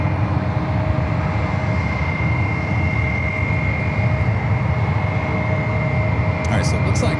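Continuous heavy roar of an Airbus A321 at San Francisco airport, loud and even for the whole stretch, with a steady whine layered over it and a short crackle of radio voice near the close.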